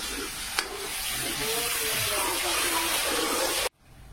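Coconut and onion masala sizzles steadily in a pan while being stirred, a continuous close frying hiss with soft scraping movements, cutting off abruptly near the end.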